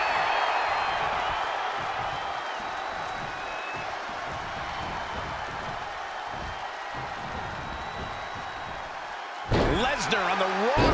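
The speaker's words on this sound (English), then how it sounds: "The sound of this crowd is..." Arena crowd in the WWE 2K22 wrestling video game during a Brock Lesnar match: a dense, sustained roar of cheering that holds steady, then swells near the end with a sharp burst, all beneath ongoing commentary.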